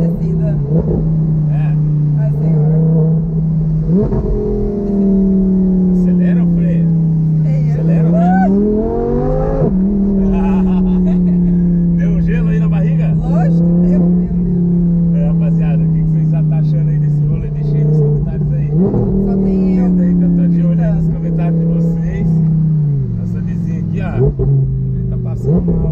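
An Audi R8 sports car accelerating hard, its engine revving up and shifting through gears in repeated rising sweeps, loud and close, with people talking over it inside the car.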